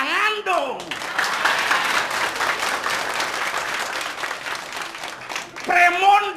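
Audience at a Balinese bondres comedy performance clapping in steady applause that fills the whole stretch, with a performer's voice heard at the start and end.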